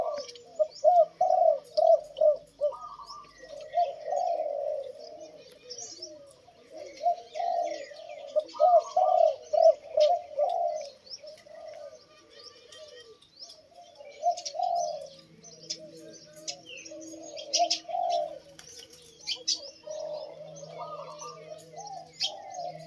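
Spotted doves coo in soft, repeated phrases close by, with brief pauses between calls and faint chirps in the background.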